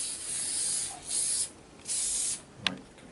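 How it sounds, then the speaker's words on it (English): An aerosol can spraying adhesive onto skin before shoulder taping, three short hissing bursts separated by brief pauses, then a small click. "we'll put a little bit of our magic spray on to start with"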